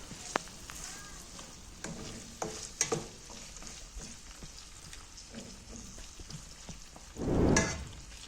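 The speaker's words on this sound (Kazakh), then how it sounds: "Ең алдымен етті қуырам, одан кейін біраздан кейін осылай сәбізін турап саламын." Meat and carrots fry in a pan under a steady low sizzle, broken by a few sharp scrapes and clinks of stirring and a louder burst of hissing near the end.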